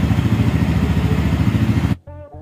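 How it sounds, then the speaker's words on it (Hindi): A Bajaj Pulsar N160 2022 BS6 fuel-injected motorcycle engine runs loud and steady with a rumbling low throb for about two seconds, then cuts to a quieter revving tone. "बाइक का साउंड बहुत ही अच्छा है"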